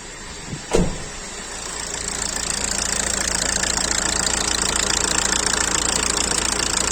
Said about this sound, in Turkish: rölante çalıştığı için fazla hararet artmıyor